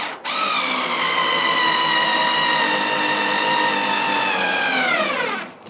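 Cordless screwdriver fitted with a roto bit drives a 1.5-inch screw into 2-inch pine in one continuous high-pitched whine lasting about five seconds, close and loud, with the motor holding steady pitch before winding down.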